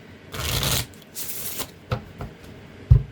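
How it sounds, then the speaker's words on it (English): Cards riffle in two quick bursts of fluttering shuffle, close up, followed by soft taps and a sharp knock as the deck is squared. "let's get a good shuffle."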